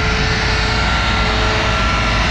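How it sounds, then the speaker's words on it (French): Turbocharged Honda Civic EP3 Type R engine revving hard during Hondata tuning, a loud, steady, close roar held for a couple of seconds with no voices. "donner les coups de gaz"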